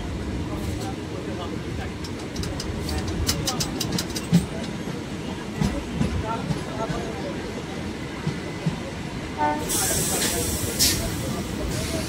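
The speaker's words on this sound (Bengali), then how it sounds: "এখন আমাদের ট্রেন ঢুকছে বাহাদুরপুর স্টেশন" A memo train on the Naihati–Berhampore line rolls into Bahadurpur station, a steady rumble and hiss of the carriages heard from onboard, with rhythmic clicks and a burst of hissing brakes near the end.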